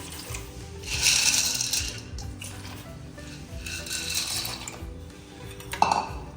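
Dry penne pasta, about 200 grams, poured into a pot of boiling water, giving a few bursts of rattling, clattering pieces and splashy bubbling at moderate volume, with a brief metallic knock near the end.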